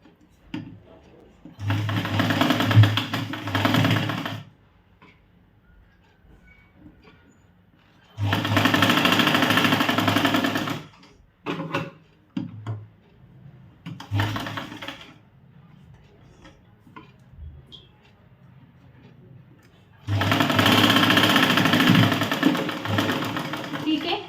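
Sewing machine stitching a tucked blouse, running in three long loud bursts with a shorter burst between them and quieter gaps of handling noise.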